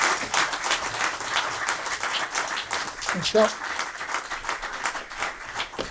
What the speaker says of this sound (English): Can I have a nice round of applause for these two chaps?